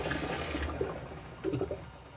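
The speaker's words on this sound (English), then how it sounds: "what we're really after right now is to pull that liquid out of this pot" Liquid poured out of a Ninja Foodi pressure cooker pot after cooking tri tip, a short close splashing, gurgling stream of water that swells and sloshes in uneven bursts, with no talking.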